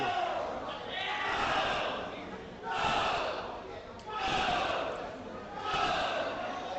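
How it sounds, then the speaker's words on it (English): Apple Valley swimmers cheering on a teammate at a boys swim and dive meet against Rosemount: four rhythmic swells of group shouting rise and fall about every second and a half, echoing in an indoor pool. "Apple Valley swimmers cheering on their teammate."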